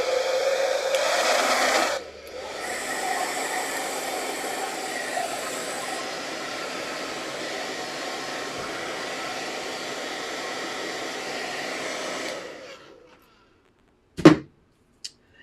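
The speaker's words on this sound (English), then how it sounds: "I am going to blow dry just really quickly, just to make sure it's kind of set in there." A blow dryer runs on ink stamped onto a foam craft piece, a steady loud whoosh that changes pitch briefly after two seconds, continues evenly, then cuts off, followed by a couple of short knocks.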